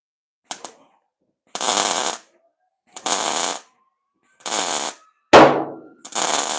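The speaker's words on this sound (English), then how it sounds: "And then I'll hammer and dolly the spots that need hammering and dollying." Rapid metallic hammering with a hammer and dolly on a car body panel comes in about six short, rattling bursts separated by brief silences, close and sharp.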